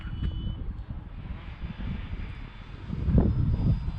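A small electric RC foam model airplane's motor drones steadily at a distance, swelling louder toward the end as it passes over.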